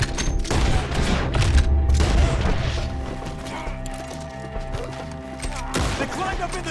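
Gunfire in a chaotic shootout in the Western video game Red Dead Redemption 2, loud dense volleys and cracks layered over a continuous battle din, with shouting voices mixed in.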